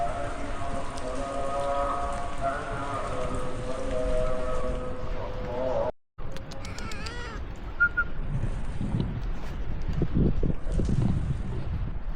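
Steady rain patters continuously over a low hum in Brunei, with a brief dropout midway, then the rainfall resumes with some louder nearby drips and knocks.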